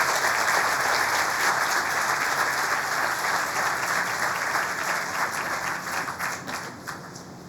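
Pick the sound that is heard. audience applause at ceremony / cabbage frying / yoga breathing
audience applause at ceremony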